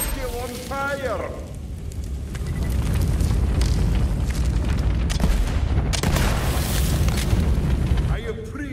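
In the Borderlands video game, explosions and fire at a firing range produce a loud, rumbling roar of booms and crackling flames sustained for several seconds, with a character's voice talking before and after.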